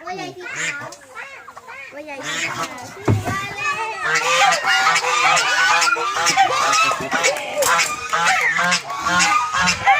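Geese at a school farm honk repeatedly in loud, overlapping calls alongside excited children's chatter and shouts, with an adult speaking nearby.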